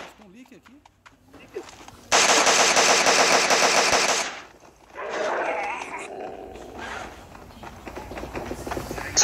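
Loud rapid machine gun fire in PUBG Mobile during its Resident Evil 2 event, a dense sustained burst for about two seconds, then quieter shots and footsteps, with voices talking around it.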